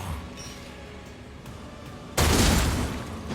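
Turret fire in the video game Warhammer 40000: Rogue Trader, a sudden loud, dense burst of rapid shots that starts abruptly after a quieter stretch and keeps pounding to the end.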